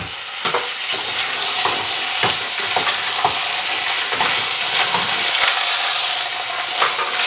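Beans and onions fry in a pan with a loud, constant sizzle, while a utensil stirs through them, scraping and clinking against the pan at irregular intervals.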